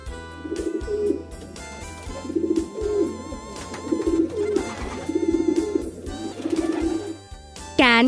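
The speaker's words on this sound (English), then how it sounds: "Pigeon." A pigeon coos in soft, repeated rounds at an even rhythm, close and clear over a faint background.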